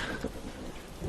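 Steady heavy rain with low rumbling thunder outdoors in cold weather, a dense continuous wash of sound close around, no talk.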